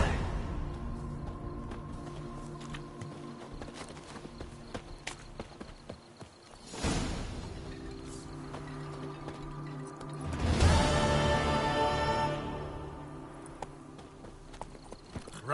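A horse clip-clops along in The Witcher 3 game, with steady hoofbeats over a low ambient bed, tack rattling and two louder swells of movement partway through.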